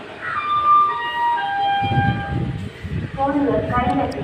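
Train pulling into Shoranur Junction railway station in Kerala, a long horn tone sounding first, then low rumbling wheels and carriage noise rolling in amid platform bustle and a background public-address announcement.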